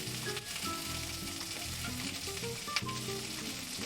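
Food fries on a stove in a home kitchen, a steady dense sizzle with scattered sharp pops of spattering oil, close and alone without talk.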